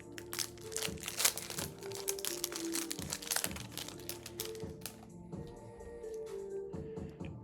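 Trading card pack wrapper being struggled with and torn open by hand, a close, busy stream of crinkling and crackling foil with sharp snaps, easing toward the end.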